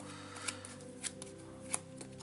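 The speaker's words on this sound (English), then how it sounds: "I'm looking at them as I'm trying to shuffle." Playing cards being shuffled at a tabletop game session, a quiet riffling with a few sharp snaps of the deck standing out, close and alone with no talk.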